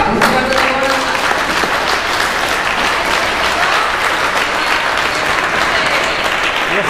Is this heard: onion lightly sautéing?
no